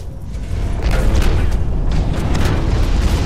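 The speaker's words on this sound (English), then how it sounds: "I did a midair grenade on him, and I took a lot of damage from that with no payoff" A midair grenade detonates in the mech shooter Hawken, giving a deep, rumbling boom that swells and holds as a sustained low roar over roughly three seconds, loud and close.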